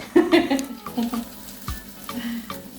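A spinach omelette frying in a pan, with soft sizzling and a few light scrapes and taps of a utensil, close and fairly quiet.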